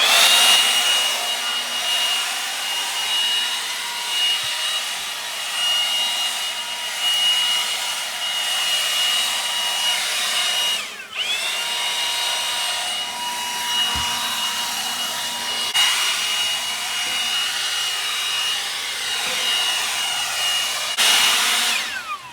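A Milwaukee M18 Fuel 2724-20 cordless blower runs close by with a continuous loud whooshing roar and airy whine, dipping briefly and shifting speed partway through.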